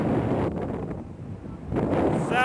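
Gusting wind on a cold, empty beach batters the microphone with a loud low roar that dips briefly in the middle and then surges back.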